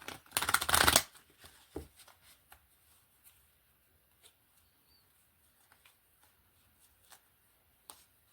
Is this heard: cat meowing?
no